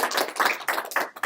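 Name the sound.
audience clapping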